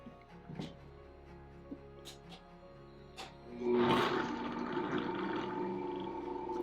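A Vitamix blender purées oil-free, tahini-free hummus made from beans and aquafaba; a few light clinks come first, then the motor starts with a loud, sustained roar that continues to the end.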